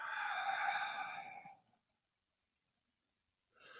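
A long audible exhale during a Pilates spinal twist stands alone and fairly close, trailing into silence before another breath starts.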